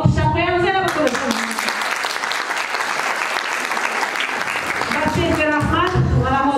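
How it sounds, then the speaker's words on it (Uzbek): An audience bursts into loud, sustained applause for the children, with a speaking voice heard briefly before the clapping swells and again as it dies away. "bolajonlarimizga bir olqish chaqiramiz"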